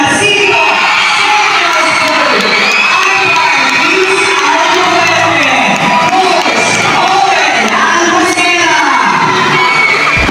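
A school press conference awarding ceremony erupts in loud, continuous crowd clapping, cheering and children shouting, a dense sustained roar with excited yells throughout.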